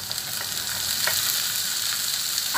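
Onions and tomato sizzle steadily in a hot pan for a chutney, a close, continuous frying hiss with faint stirring clicks and no talking.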